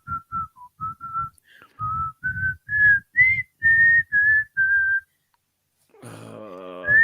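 A person whistles a song as a name-that-tune challenge: a clear, close melody of short phrases rising and falling, with a brief gap before a final note under a bit of voice.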